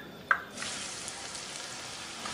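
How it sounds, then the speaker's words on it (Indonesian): Tempeh frying in a pan with a soft, steady sizzle of hot oil, opened by a brief clink at the start. "kita akan goreng tempenya"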